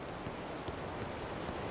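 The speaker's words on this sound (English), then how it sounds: "Looks like it's gonna rain again." Steady rain falls in the video game WILL: Follow The Light, a dense, even hiss of drops on surfaces that holds at the same level throughout with no voices.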